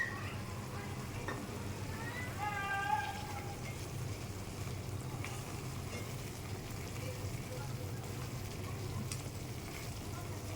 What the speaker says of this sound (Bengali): এখন আর একটু তেল দিয়ে দেবো মশলাটা ভুনার জন্য।